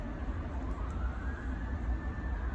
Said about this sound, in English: there's another ambulance coming